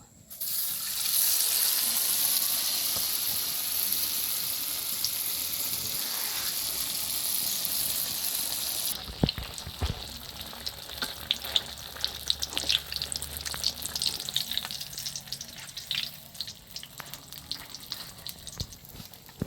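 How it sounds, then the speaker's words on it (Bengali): Egg-and-flour batter layer frying in hot oil for pantua pitha, a steady loud sizzle that shifts partway through into a busier crackle with scraping and stirring clatter, close by and without talk. "এই যে আমাদের একটা লেয়ার ভাজা হয়ে গেছে"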